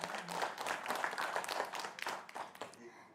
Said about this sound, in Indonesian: Boleh berikan tepuk tangan untuk para pasangan calon.